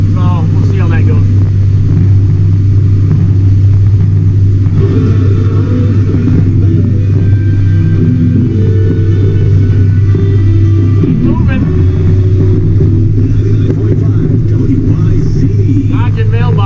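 A farm tractor hauling a loaded cart during soybean harvest chugs loudly with a deep, steady engine drone heard close from the cab, while someone talks over it.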